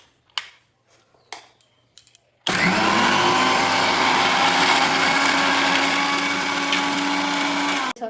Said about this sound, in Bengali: এবারে তো ব্লেন্ডারে ব্লেন্ড করে নেব